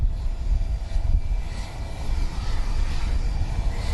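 The presidential airplane's engines run at the airport in Portland, producing a steady, loud low roar that holds throughout.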